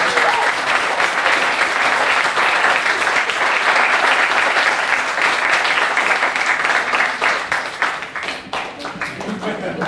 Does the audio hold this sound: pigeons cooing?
no